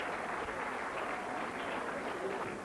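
An arena audience applauds at the end of an amateur boxing bout between Manchester and Belfast in 1983, a steady, even wash of clapping heard somewhat distant and faint, continuing throughout without a break.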